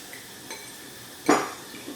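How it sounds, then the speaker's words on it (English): A spoon knocks and scrapes inside a bowl while Korean chicken wing sauce is mixed, a few faint taps followed by one louder clattering stir, all close and without talk. "Give it another mix."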